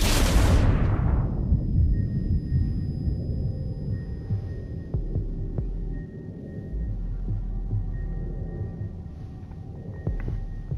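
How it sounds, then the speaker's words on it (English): A grenade explodes in the shooter game Ghost Recon Breakpoint during a PvP match, starting with a loud, deep blast that decays into a long rumbling roar with faint crackles and thuds. "Throwing a grenade."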